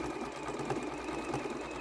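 A sewing machine runs decorative stitches along quilt binding on a quilt-as-you-go table runner, a faint, steady mechanical whir with a regular stitching pulse throughout.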